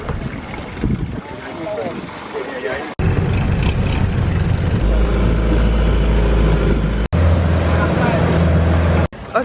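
A longtail boat engine drones loudly and steadily with a deep, throbbing hum on a tour around Thailand's Phi Phi Islands, mixed with rushing wind buffeting the microphone.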